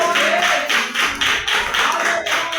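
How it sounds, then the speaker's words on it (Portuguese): A church congregation claps together in a fast, steady rhythm. The group of hands sounds loud and close and keeps going without a break, with no speech over it. "As palmas vão descer com mais alegria, porque é para o Senhor"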